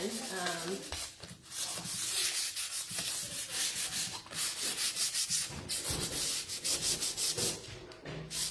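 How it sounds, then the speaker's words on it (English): Steady scratchy rubbing of wet sanding on a painted wooden chair, continuous back-and-forth strokes, close and fairly loud, with no voices. "that is the wet sanding process"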